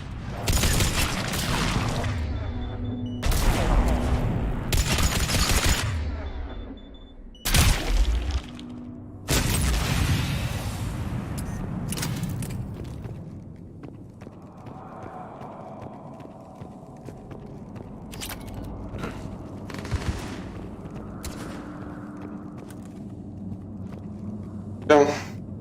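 Mass Effect 3 combat with gunfire and grenade blasts: sharp loud shots and booms come in a cluster early on, then sparser distant reports. Someone talks over the action at times.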